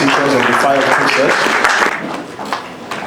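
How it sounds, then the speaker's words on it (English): Audience applause for a comedian walking onto a panel at a comedy show, loud claps blended with cheering and talk, swelling at first and then tapering off near the end. "please clap for Woli Arole as he comes to the panel"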